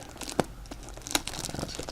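Plastic sleeve around a board game board being handled, with faint crinkles and a couple of sharp crackling snaps, quiet and close.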